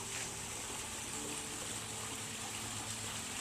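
Backyard waterfall in Green Valley splashing into a garden pond, giving a steady, even hiss and gush of falling water without pauses.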